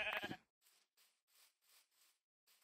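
Sheep in the video game Minecraft bleat in a run of five or six short, evenly spaced calls following a brief burst of louder sound, each bleat soft and clear against silence.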